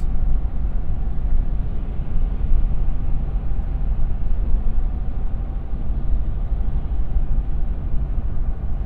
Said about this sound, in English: let you hear what the 4Runner sounds like at 70 miles per hour with these all-terrain tires